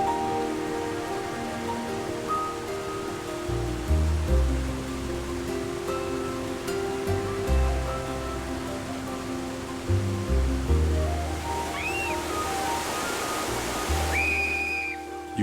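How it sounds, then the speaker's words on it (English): Water from a falls pouring over an overhanging ledge, heard from behind the curtain, makes a steady broadband rushing hiss beneath prominent background music. "totally behind the waterfall."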